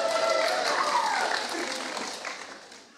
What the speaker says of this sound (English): clapping at him